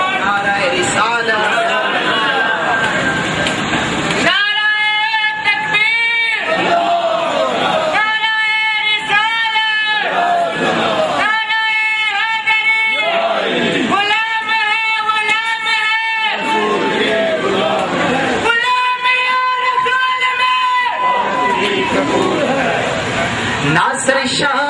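A crowd at a naat gathering roars back in repeated unison bursts, several loud collective shouts answering a leader's chant over steady hall murmur and chatter.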